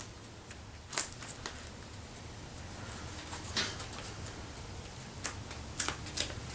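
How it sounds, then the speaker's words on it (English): Scissors snip off excess paper while a paper bird is being crafted, giving a handful of quiet, crisp cuts scattered over a soft background hiss. "I'm just going to cut that off."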